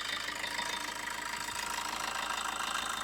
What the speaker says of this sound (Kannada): ಇಂಜನ್ ಫುಲ್ ಸ್ಮೂತ್ ಐತಿ.